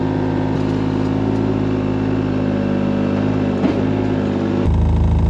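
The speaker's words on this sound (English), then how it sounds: "Let's see if the mini truck will dump it." A mini truck's engine runs at a steady, loud idle close by, a continuous mid-pitched drone that deepens and grows heavier for the final second, with no talking.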